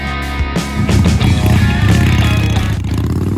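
Harley Davidson Dyna Street Bob motorcycle engine running close by, a loud rough idle with a steady throbbing pulse throughout.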